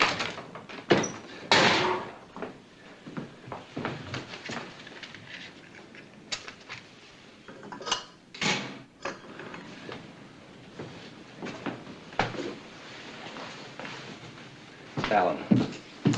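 A bolted door being forced and broken down in a 1952 Western film, repeated heavy thuds and slams spaced irregularly over several seconds with rattling between blows, loud and close.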